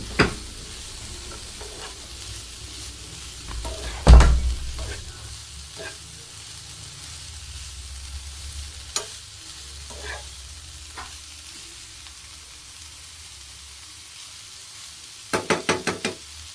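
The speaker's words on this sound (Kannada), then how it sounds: "ಬಟ್ ಕೊಬ್ಬರಿ ಹಾಕಿದ ಐಟಮ್ಸು ಬೇಗ ಹಾಳಾಗುತ್ತೆ ಅಂದ್ಬಿಟ್ಟು ಸ್ವಲ್ಪ ಚೆನ್ನಾಗಿ ಫ್ರೈ ಮಾಡ್ಕೋಬೇಕು" Grated coconut frying in a pan, a steady low sizzle under the occasional knock and scrape of the spoon, ending with a quick run of taps against the pan.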